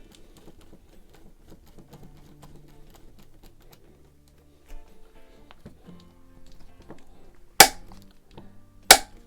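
Quiet mechanical handling and faint rattles as a wire is tightened in a terminal, then two sharp, loud clicks about a second apart near the end as an adjustable VDE torque screwdriver handle releases at its set torque.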